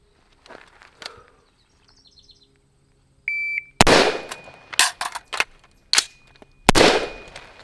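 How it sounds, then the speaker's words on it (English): Rifle shots crack loudly during a left-handed reload demonstration, a few sharp reports after quiet handling clicks and a beep, with metallic reload sounds between shots. "So I'm going to shoot."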